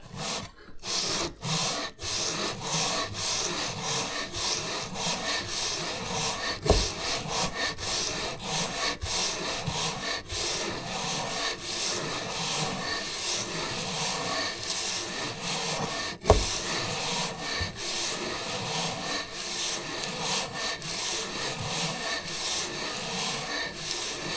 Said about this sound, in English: I can't have that sandpaper bunching up on me